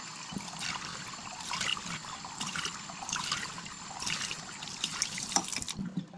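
Water trickles steadily into a bowl as Sichuan peppercorns are rinsed under a kitchen tap, a soft continuous splashing with small fluctuations and no talk.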